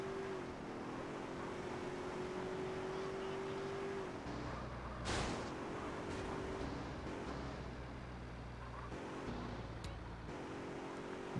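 A car in Grand Theft Auto: San Andreas – The Definitive Edition gives a faint, steady engine drone, with a brief whoosh partway through.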